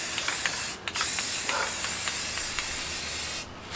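Spray paint hisses steadily and close by as a base coat goes onto a rifle. The spraying runs in a long stream with a couple of short breaks, and there is no talking.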